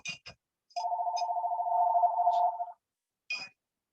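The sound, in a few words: telephone ringing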